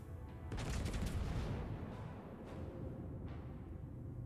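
Naval gunfire salvo from the battleship Alaska in a video game, a loud burst of heavy booming shots near the start followed by a rumbling tail and a couple of fainter later reports.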